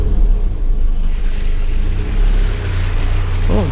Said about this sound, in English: Come to our first little water crossing here